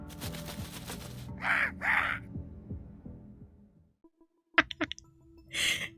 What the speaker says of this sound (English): Ain't no way that was a real crow.